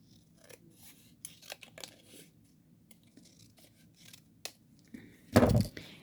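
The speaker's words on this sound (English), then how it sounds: "We're going to cut this in half." Scissors snip through a card panel for a handmade card, quiet scattered paper rustles leading to a louder, closer crunching cut near the end, with no voices.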